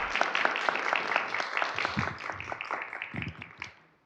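Audience at a board meeting clapping, a dense burst of many hands applauding in a room that gradually thins and fades out over a few seconds.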